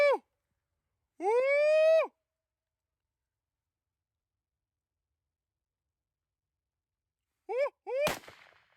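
A single sharp rifle crack from a thermal coyote hunt rings out near the end, just after a few short whooping calls. Otherwise the surroundings are quiet.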